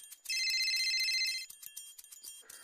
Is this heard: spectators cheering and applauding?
no